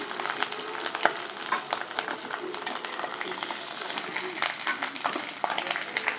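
Chopped onions fry in a pan with a steady, close sizzle and crackle, following fried eggs, with scattered clinks and stirring scrapes throughout.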